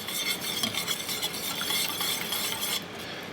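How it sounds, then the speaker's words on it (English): Juice and honey being stirred together into a sweet and sour sauce, a steady close scraping swish of utensil against bowl with a faint clink at the end, no voices. "you mix this all together."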